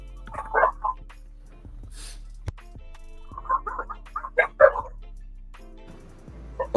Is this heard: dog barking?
yes